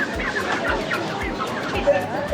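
Chickens and hens cluck near a street food spot in Morocco, short repeated calls over a busy background murmur.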